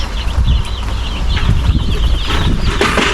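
Chickens cluck close by in a farmyard, with busy overlapping clucks and some rustling and wing flaps, and no speech.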